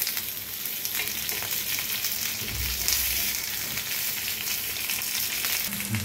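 Meat frying until crisp in a pan, a steady dense sizzle with crackling spits running the whole time, fairly close and even in level, with no talking over it.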